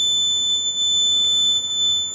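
An ink printer's buzzer alarm sounds because its ink reservoir is full: a steady, continuous high-pitched electronic tone that holds loud and unbroken throughout, with no talking.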